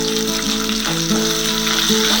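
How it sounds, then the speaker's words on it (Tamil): Chopped onion hitting hot oil with browned chana dal, a steady close sizzle and crackle of frying that runs throughout, with no talking. "இப்போ நம்ம வெங்காயம் போட்டுக்கலாம்."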